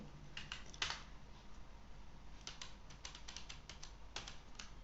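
Keys clack on a computer keyboard during Ctrl shortcuts in MS Word, with quick light clusters of taps and pauses between them, faint and close with no voice.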